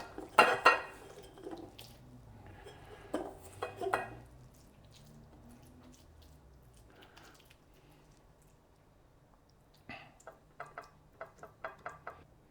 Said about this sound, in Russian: Быстро споласкиваю руки